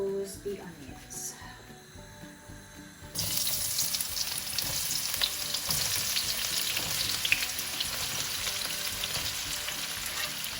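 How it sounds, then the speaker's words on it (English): Onions drop into a hot pan of sunflower oil and start frying with a loud, continuous sizzle that begins a few seconds in and holds steady. Quieter kitchen clatter comes before it. "Hot pan, 2 tablespoons of oil. I use sunflower oil, and then in goes the onions."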